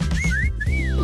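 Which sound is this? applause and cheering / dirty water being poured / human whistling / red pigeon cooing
human whistling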